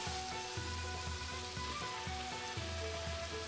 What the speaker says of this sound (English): I'm going to fry the minced pork first. Now I'm going to add my mushrooms